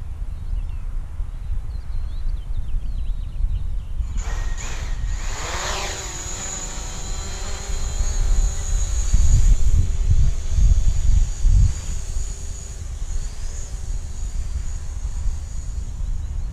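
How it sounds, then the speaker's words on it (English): A drone takes off after a few seconds of quiet background, its motors spinning up into a rising, steady whine that swells and hovers nearby, with no talking. "I'll get the drone in the air."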